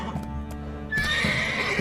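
Roach, the horse in The Witcher 3, lets out a loud whinnying neigh that rises about midway, with faint hoof clops and game ambience beneath, no voices.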